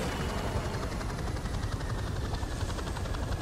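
Rapid rotor thumping from a helicopter hovering nearby in Call of Duty: Modern Warfare Remastered, continuous and loud, with a broad engine roar filling the background.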